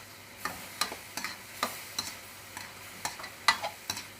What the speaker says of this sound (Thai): ตอนที่ผัดเนี่ยต้องไฟแรงไว้อย่างเดียว